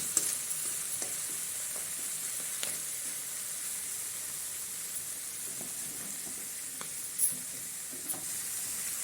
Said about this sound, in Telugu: మంచిగా వేగాక మనం ఉడకబెట్టిన క్యాబేజీని ఇందులో వేసుకోవాలి